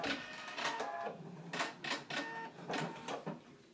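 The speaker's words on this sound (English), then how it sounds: "We're going to go ahead and pin there and stitch in 1/5 inch seam allowance" A sewing machine stitches a tie seam in short bursts, several quick mechanical runs separated by brief pauses, near and moderately loud.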